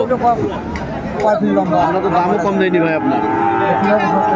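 A Sahiwal bull moos at a livestock market in Dinajpur, a drawn-out bellow rising over close conversation and the chatter of the surrounding crowd.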